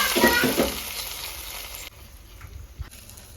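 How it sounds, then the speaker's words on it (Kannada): Sliced onion tempering crackles and sizzles loudly in hot oil for a fish curry, a dense burst that drops off sharply after about two seconds into a quieter low simmer with a few faint clinks. "ಇದಕ್ಕೆ ಕೊನೆಯದಾಗಿ ಈರುಳ್ಳಿ ಹಾಕಿ ಒಗ್ಗರಣೆ ಹಾಕ್ತಾ ಇದ್ದೀನಿ"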